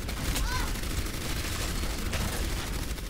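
Heavy, sustained gunfire in an Overwatch match, a dense loud barrage of rapid shots with a few brief whistling tones mixed in, continuous throughout.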